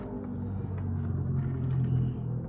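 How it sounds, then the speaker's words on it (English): Cars passing on a busy road outside make a steady low rumble, heard indoors in the background with a slight swell as a vehicle goes by. "the hazards of living by a busy road that you can hear the cars in the background"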